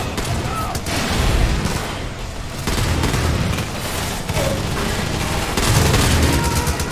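Gunfire in the Far Cry 5 video game comes as dense, sustained bursts of shots and booms, loud and continuous with slight swells throughout.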